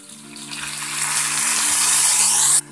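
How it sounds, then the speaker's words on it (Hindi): Water pours into a hot pan of dhokla tempering with mustard seeds, curry leaves and green chilli, a loud close gushing splash that builds for over two seconds, then cuts off abruptly. "अब थोड़ा पानी हम इसमें डालेंगे,"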